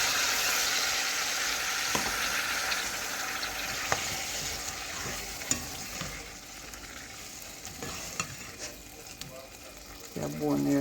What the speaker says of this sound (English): I'm gonna let this simmer for a couple minutes